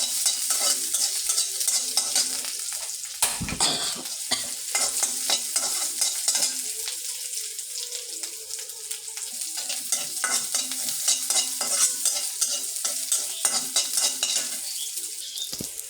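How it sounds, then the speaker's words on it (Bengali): Chopped onion and garlic frying in hot oil in a pan for dal, a steady, close sizzle with stirring scrapes running unbroken throughout, no voices. "আমার পেঁয়াজ আর রসুন কুচি ভাজা হয়ে গেছে"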